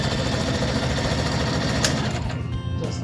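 A sewing machine runs steadily, stitching a fabric face mask and then back stitching at the end, its motor whirring continuously and close up with no talk.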